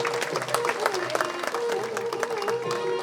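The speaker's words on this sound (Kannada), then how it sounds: "ತಮ್ಮೆಲ್ಲರ ಅಭಿನಂದನೆಯ ಪ್ರೀತಿಯ ಚಪ್ಪಾಳೆ ಎಲ್ಲ ಸಾಧಕರಿಗೆ" An indoor audience at a lifetime achievement award ceremony applauds the award recipients, with dense, steady clapping filling the hall and a voice audible beneath it.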